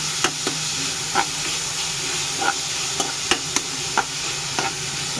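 Onions and green peas sautéed with pepper, chilli and turmeric powder in a pan for a Kerala street-style green peas curry, a steady sizzle punctuated by regular ladle taps and scrapes roughly every half second.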